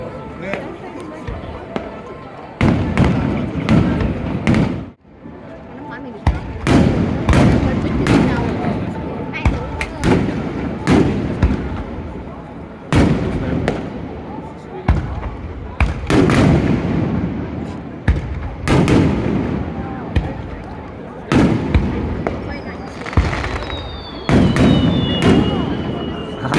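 Fireworks at the Kano River fireworks festival in Japan boom repeatedly in heavy thudding bursts with echoing tails, some whistling rises between them, while people talk and cheer nearby.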